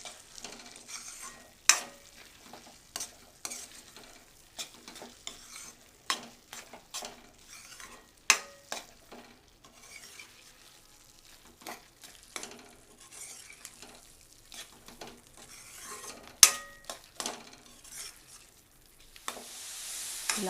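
Cardamom being stirred into carrot halwa in a pan: repeated close scraping and clinking strokes of a spoon against the pan, irregular and moderately loud, with a soft sizzle between them and no voices.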